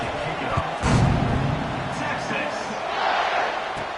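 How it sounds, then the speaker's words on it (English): A football stadium crowd keeps up a steady, broad roar after a score, with a play-by-play announcer's voice talking over it. "this crowd is buzzing after that last score"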